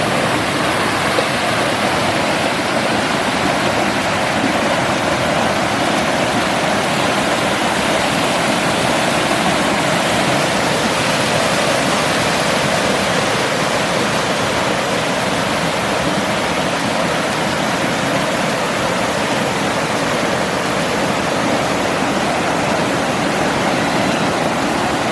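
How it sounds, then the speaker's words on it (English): A large waterfall slide at Stone Mountain State Park roars continuously, broad and loud, with rushing water over rock that stays constant throughout and no voices. "I have never seen a waterfall slide this big before."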